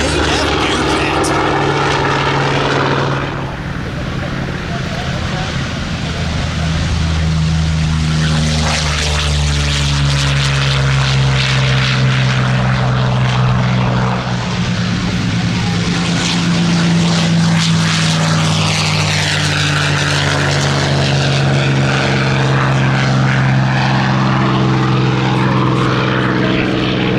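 A Grumman F8F Bearcat propeller warbird flying at an airshow over the redwoods, its loud piston engine droning steadily and shifting in pitch as it passes, with a faint announcer voice underneath.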